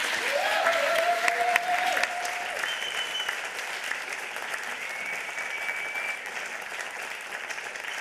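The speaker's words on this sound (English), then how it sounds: "Give them a warm hand of applause" Steady, dense applause fills a hall at the 28c3 hacker congress after a talk, a continuous even roar of many hands clapping, with a few faint whistle-like tones over it and no voices.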